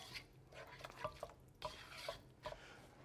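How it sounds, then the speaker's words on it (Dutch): A spoon stirs three tablespoons of liquid palm sugar into a sauce for sambal goreng kentang kering, soft scraping swirls with a few light clinks against the pan, faint and close. "Daar doen we 3 eetlepels van. En dat roeren we even door elkaar."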